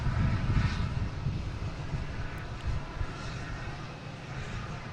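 A Hawker business jet arrives at Boston Logan, giving a moderate, steady engine rumble with a faint whine above it.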